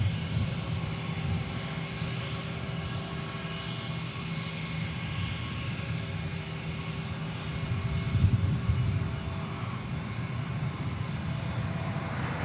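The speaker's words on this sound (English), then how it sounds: "Departure American 2064. This is an Airbus A321." Steady jet roar from an American Airlines Airbus A321 departing DFW Airport, loud and continuous with a brief swell near the middle and no voices over it.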